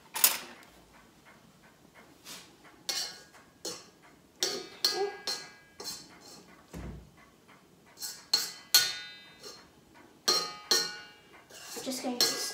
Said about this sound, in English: I'm just going to start scraping everything in from the sides.